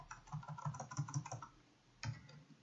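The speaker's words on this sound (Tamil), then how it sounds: "லோக்கல் ஹோஸ்ட் என டைப் பண்ணி" Rapid keystrokes on a computer keyboard as someone types out a localhost address in a browser for a PHP exercise, a quick run of clicks followed by a pause and a single final key press.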